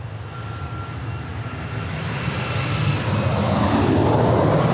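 An Emirates airliner at Sydney Airport, its jet engine roar building steadily from a distant whine to a loud, broad rush as it approaches.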